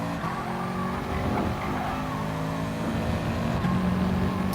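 Race car in a racing game at Interlagos, engine droning steadily with tyres squealing and skidding as it brakes hard into a corner, loud and continuous with no talk.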